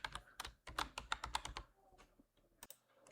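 Computer keyboard keys tapped in quick bursts of close, crisp clicks while a username and password are entered for a SQL Server login, with short pauses between runs and a couple of isolated taps near the end.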